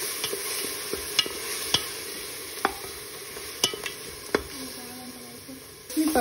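Ginger paste fried in a pan for green chicken pulao, giving a steady close sizzle broken by sharp scraping stir strokes at irregular intervals of roughly half a second to a second.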